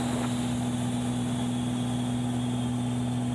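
An Extra 300 aerobatic airplane engine drones loudly and steadily in flight, a constant heavy hum heard from inside the cockpit with no voices over it.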